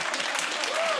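A studio audience at a comedy panel show breaks into brief, dense applause, a second-long burst of steady clapping close and loud.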